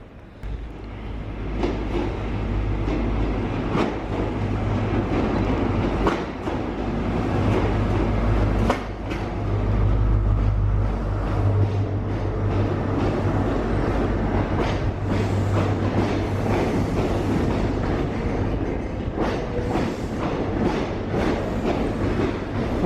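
A train pulls into Worcester station beside a footbridge, with a continuous low rumble and rhythmic clicks and clunks from the wheels over the rails. It sounds loud and close and keeps going throughout.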